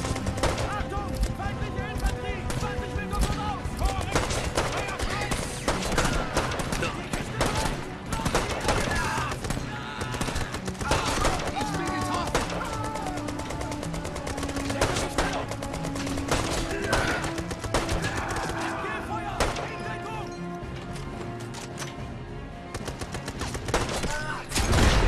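Bursts of automatic rifle fire and single shots crack through a Brothers in Arms 3 firefight, dense and continuous, with someone talking over the battle.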